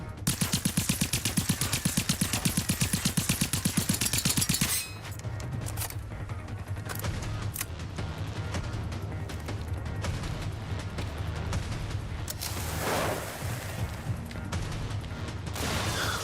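Gunfire in the video game Generation Zero: a rapid, loud burst of automatic fire for several seconds, then scattered single shots, clinks and impacts over a low rumbling background.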